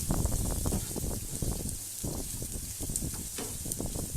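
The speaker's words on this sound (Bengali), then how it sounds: "বড় চামচের 1 চামচ তেল দিয়েছি, তার মধ্যে দিয়ে দিলাম একটা কুচনো পেঁয়াজ" A spoonful of oil sizzling with chopped onion in a frying pan, a steady close crackle and hiss with small pops, made while cooking an egg kabiraji dish.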